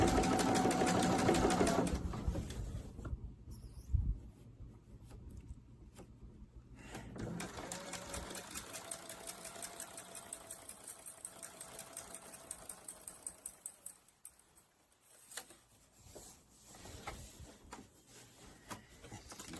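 A sewing machine stitches free-motion ruler work on a messenger bag butterfly design, a rapid mechanical whir starting loud, then continuing in quieter bursts with rhythmic needle clatter, pauses and faint handling noises throughout.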